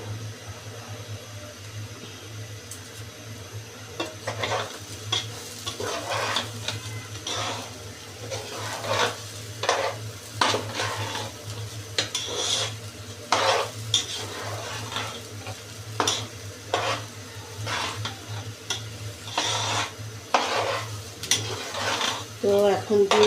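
Meat with green chillies frying and being stirred for tehari, with repeated scraping spoon strokes against the pot over a continuous sizzle and low hum.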